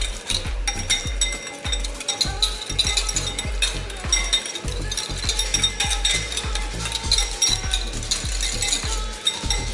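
A whisk, fork or spoon mixes a paprika marinade for coat-hanger chicken in a bowl, giving a steady rhythmic scraping and clinking against the bowl, close and fairly loud, repeating quickly throughout with no talk.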